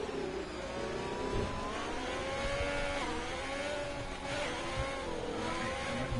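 A Williams racing car drives past with a steady mid-pitched engine drone and rising revs, moderately distant and even in level, with no one talking.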